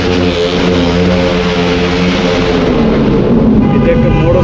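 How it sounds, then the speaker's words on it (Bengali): A motorcycle passes loudly on a road in Uttara, Dhaka, its droning engine tones strong up close and then easing off, with voices faintly mixed in. "এটা একটা মোটর সাইকেলের শব্দ,"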